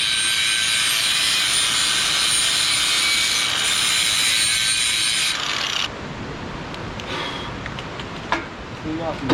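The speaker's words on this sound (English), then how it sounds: "go grab the flap wheel and clean it up a little bit" Flap wheel grinding on a metal part for a 250cc Mega Moto mini bike: a loud, steady high whine with broadband abrasive hiss runs for about six seconds, then cuts off, leaving quieter shop clatter and a couple of knocks.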